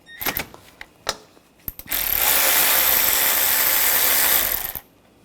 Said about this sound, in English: Using a 13mm socket, we're going to take this nut off.